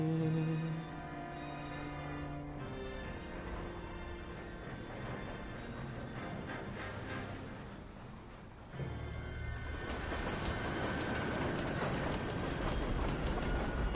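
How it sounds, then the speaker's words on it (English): Train yard ambience in the video game L.A. Noire: a steady rolling rail rumble with faint clanks, dipping briefly midway before swelling into a louder, broader wash of noise. "Walking around a train yard?"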